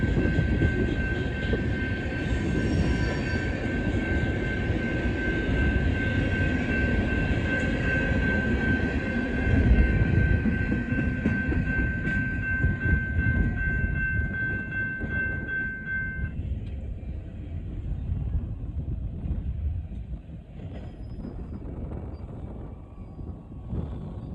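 A long coal train rumbles past steadily and loud, with a sustained horn tone for the first part, then the roar of cars continuing.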